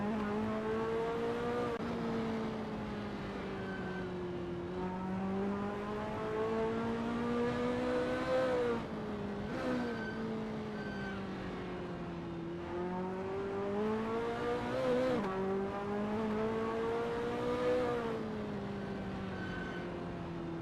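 A Ferrari F40 at Kyalami '67 in a sim racing game drones steadily through Clubhouse Bend, its engine note swelling and dipping in pitch with throttle and gear changes, loud and continuous with no talk.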